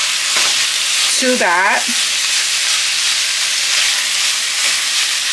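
Ground turkey going into a pan of sauteed onions and sizzling steadily throughout, a loud broadband fry with a brief voice speaking near the start.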